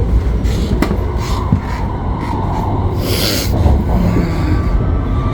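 A high-speed bullet train in China, running near Nanjing South at up to 345 km/h, gives a steady loud rumble and rushing roar with faint rhythmic clatter, heard from inside a carriage.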